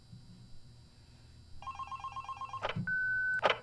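In the Five Nights at Candy's Remastered video game, a phone rings with repeated electronic tones that give way to a steady sustained beep. The ringing is moderately loud and stands alone with no voice.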